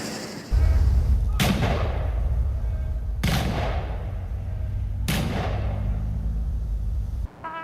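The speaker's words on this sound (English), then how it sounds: "Those were the rifle volleys and the playing of taps during the ceremony at the cemetery this afternoon" Three sharp, loud rifle volleys crack at even intervals across a cemetery during a police officer's funeral ceremony, each followed by a brief echoing decay over quiet outdoor ambience.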